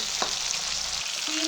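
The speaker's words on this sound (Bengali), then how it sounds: "সিম আর বিনস ভালো করে ভেজে নেব" Flat beans and green beans frying in oil for a nine-vegetable navratan curry make a dense, continuous close sizzle in a brief burst, with no voices.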